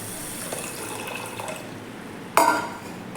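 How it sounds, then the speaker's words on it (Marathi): Water poured from a bowl onto sugar in a pan to start syrup for boondi laddoos: a sudden splashy gush near the end, loud at first and then fading, over a quiet kitchen background. "आता त्याच वाटीने इथे मी सव्वा वाटी पाणी घालून घेणार आहे"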